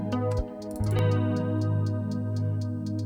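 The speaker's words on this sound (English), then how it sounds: "The first one is just a consistent hat with 8th notes and a couple 16th notes sprinkled in" Closed hi-hat in a Studio One beat ticks steadily in 8th notes with a few 16th-note flurries, sitting over a sustained guitar-toned chord bed.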